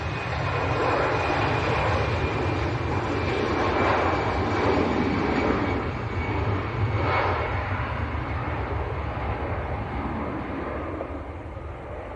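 A fixed-wing aircraft takes off at Leeds Bradford Airport, its engines a loud, steady broadband roar heard from a distance throughout, slowly fading slightly toward the end, with no talking.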